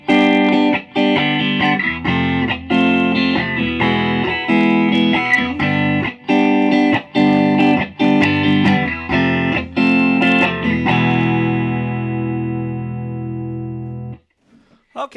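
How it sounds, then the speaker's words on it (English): Electric guitar played through a hand-wired Deluxe Reverb amp on channel 1 with the reverb off, giving dry, loud strummed chords in a steady rhythm, close and upfront, ending on a sustained ringing chord that cuts off, with no talking. "Let's see what channel 1 sounds like with no reverb"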